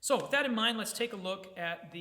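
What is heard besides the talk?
No everyday noises stand out.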